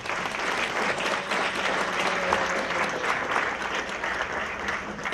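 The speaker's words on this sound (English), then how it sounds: "if you invite and have a hand of applause again now" A crowd at a World War II honor ceremony applauds a Battle of the Bulge veteran, giving sustained, even clapping at moderate volume with a faint tonal hum underneath.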